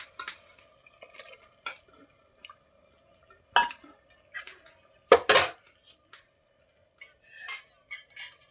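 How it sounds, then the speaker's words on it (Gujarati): Water from a rinsed yogurt bowl is poured into a cooking pot, heard as a few sharp metallic clinks and brief splashes spaced over quiet gaps. "જેટલું પાણી રેડીશું, આ દહીં વાળો વાટકો છે એટલે ધોઈ નાખીએ આપણે અંદર."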